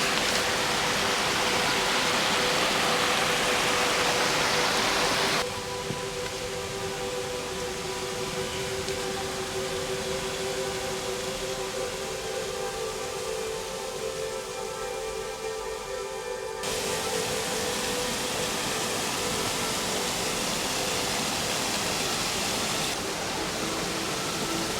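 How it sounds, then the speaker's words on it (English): Steady broadband rush of a creek flowing over rocks in the Perth Hills, a continuous close water wash with tonal sections shifting partway through, no voices. "I can hear the creek is flowing quite nicely already"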